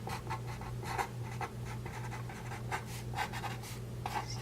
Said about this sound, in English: So I'm just going to write it down here.